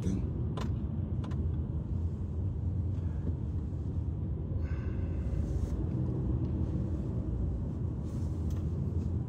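Hundreds of cars crowd the road, their steady low rumble filling the air continuously, with faint passing swells and a few light clicks over the drone.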